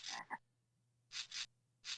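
Frog croaks from the video game Zoombinis: a short double croak, then a pause, then a close pair of croaks and one more, each bright, chirpy and fairly quiet against a faint steady hum.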